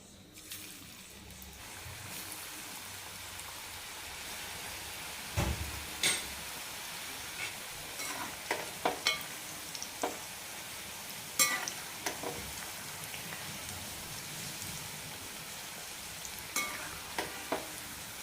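Rice flour snacks dropped into hot oil for deep frying, giving a soft steady sizzle and hiss with scattered sharp clinks and stirring scrapes from a utensil, close and without talk.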